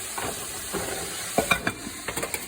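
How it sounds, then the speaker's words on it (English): Chicken frying hard in hot grease on high heat, a steady sizzle heard close up with scattered sharp pops and crackles. "see how it's starting to fry real hard"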